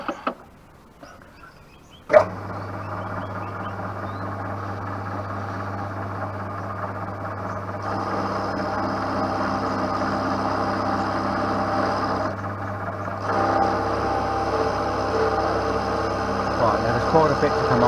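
A milling machine runs steadily on a metal block, a constant motor hum and tonal whine starting abruptly after a sharp clunk, then shifting in pitch and intensity as the cutter is fed along, fairly close.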